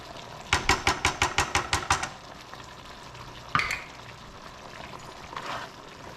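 Beef stroganoff ingredients being mixed in a bowl, a quick run of about eight rhythmic stirring scrapes followed by a single sharp clink and a faint rustle, close and alone with no talk.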